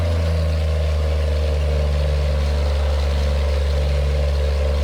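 A Peterbilt truck's big engine labors up a hill in American Truck Simulator, a steady loud low drone with strong rumbling harmonics and no talk.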